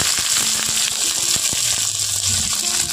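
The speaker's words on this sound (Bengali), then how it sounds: "এখন আমি দিয়ে দিচ্ছি কুচনো পেঁয়াজ।" Chopped onions hitting hot oil already fried with cumin and mustard seeds, giving a steady, close sizzle with small clicks and stirring taps throughout.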